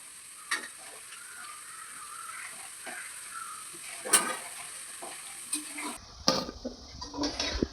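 Cauliflower pieces deep frying in oil for Gobi 65 give a faint, quiet bubbling sizzle, broken by a few sharp metal clinks of a spoon against the pan, with a louder clatter near the end.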